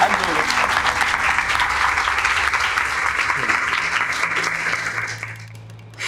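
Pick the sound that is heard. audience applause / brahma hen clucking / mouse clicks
audience applause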